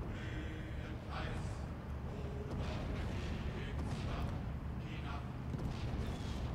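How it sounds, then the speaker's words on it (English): Mortar artillery fires in the wartime strategy game Steel Division II, three or four heavy booms spaced a second or two apart under steady low rumble, while a voice talks over the action. "I put them on defense fire around this area and they just start automatically shooting at the enemy."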